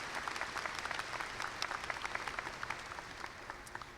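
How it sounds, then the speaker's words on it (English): A crowd at a high school graduation ceremony claps steadily, a dense wash of many hands with scattered louder claps, sustained throughout with no voices on top. "Can we get a round of applause for everyone who made our prom possible?"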